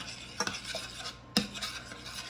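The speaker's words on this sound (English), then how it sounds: "the mixture of honey and the coconut oil, and we are gonna stir that and combine it together" Honey, coconut oil and chocolate mixture stirred in a bowl by hand, a few soft scraping strokes with two sharper clinks of the utensil against the side, close and fairly quiet, no talking.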